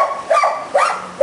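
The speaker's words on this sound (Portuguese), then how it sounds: "a cachorrada agora" Dogs bark in a quick series of high, yappy barks, three or four bursts close together over about a second, loud and near with no talk on top.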